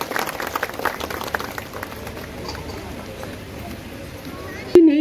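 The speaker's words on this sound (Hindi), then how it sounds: "तालियों के साथ अभिनंदन कीजिए" An audience claps at a special camp event in Silwar, Hazaribag, a burst of applause that fades into murmuring background noise, with a brief voice near the end.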